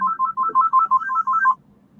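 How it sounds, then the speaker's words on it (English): A phone ringtone plays a quick repeating electronic melody of short bright tones for about a second and a half, then stops, with a faint low hum underneath and no talking. "Hey, answer the phone, Des."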